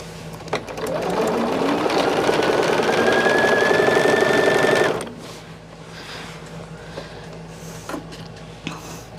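Sewing machine stitching binding onto a quilt, a loud steady whir that speeds up and runs for a few seconds before stopping abruptly, followed by soft handling clicks and rustling of fabric.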